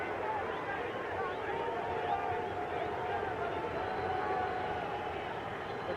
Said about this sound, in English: The crowd here at Hampton Coliseum starting to chant, Pete, Pete, Pete.